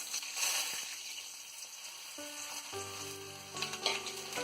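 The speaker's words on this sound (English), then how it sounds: "I have oil in the kadai, it's like hot. Now I'm adding mustard, urad dal, red chilies and onions onto it." Mustard seeds, urad dal, red chilies and onions sizzle in hot oil in a kadai with a close, continuous crackle and hiss, plus occasional stirring noises.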